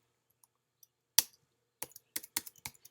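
A few sharp computer keyboard key presses separated by silence: one isolated tap, then a short burst of several quick clicks, close and crisp.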